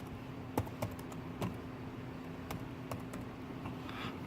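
Quiet clicks of a computer keyboard tap out a name in a loose, irregular rhythm, each keystroke a faint sharp tick over a low steady hum.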